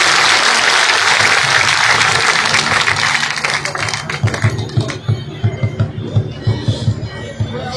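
A crowd at a village public rally in Hasanpur, Gannaur, breaks into loud applause to welcome a speaker, a dense roar of clapping that gradually fades into scattered, sharper individual claps with a low background hum.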